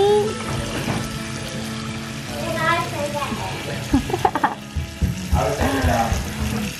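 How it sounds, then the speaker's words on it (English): Water runs and splashes in a sink as a newborn is bathed, a steady close trickle beneath an adult's soft talk and a baby's small fussing sounds. "You getting your bath in the sink?"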